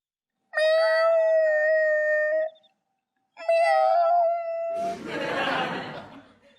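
A man imitates a cat, giving two long drawn-out meows separated by a short pause, loud and close, then breaks into a burst of breathy laughter.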